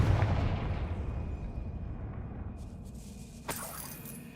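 A Confringo fire spell bursts in Hogwarts Legacy with a blast-like rumble that fades into a lingering tail, followed by a sharper crack about three and a half seconds in.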